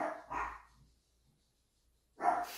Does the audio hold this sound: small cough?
no